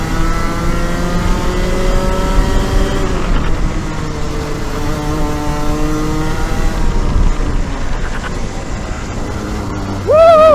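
A Rotax 125 kart engine revs continuously on a track run, loud and close, its pitch rising and falling with throttle changes over about ten seconds, with a sharp rev climb at the end.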